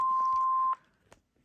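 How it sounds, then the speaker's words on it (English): An AT&T SL82318 cordless phone sounds its message alert tone, a single steady electronic beep held for under a second, then stopping into near silence. "So that's what the message alert tone sounds like. It beeps every 10 seconds."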